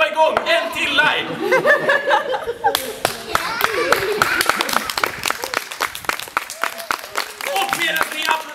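A theatre audience claps and laughs in response to a cups-and-balls magic trick, a steady burst of mixed hand claps and chuckles with a performer's voice breaking in over the applause.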